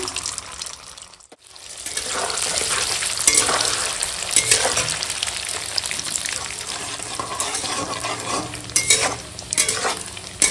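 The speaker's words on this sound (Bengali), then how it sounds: "এখন এই পনির, কাজু, কিশমিশ সব একসঙ্গে দিয়ে দেবো, দিয়ে ভেজে নেবো হালকা করে" Paneer, cashews and raisins sizzle steadily in hot ghee while stirred and scraped in a pan, a continuous crackling fry with occasional louder clinks and splutters.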